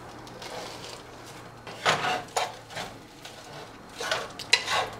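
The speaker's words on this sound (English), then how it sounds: "Now I'm going to add peas with the onion and I'm going to stir everything to combine." Peas and onions being stirred together in a pan, with soft scraping and a few sharp clinks of a utensil against the pan in irregular bursts, close and moderately quiet.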